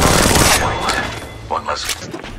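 Gunfire from Apex Legends Mobile, a dense loud burst of rapid shots at the start easing into scattered sharper reports, with game voice lines and effects mixed in.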